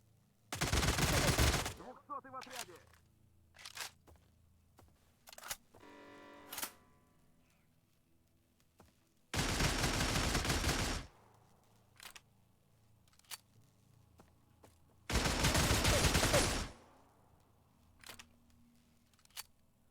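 Gunfire in the video game Stalker: three long, loud bursts of automatic fire, each lasting about a second and a half, with quieter clicks and shots between them.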